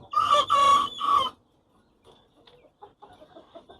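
Caged chickens, kept as a small flock in a farm setting, give a loud rooster-like crow or call of about three bursts, followed by softer scattered clucks and faint background sounds.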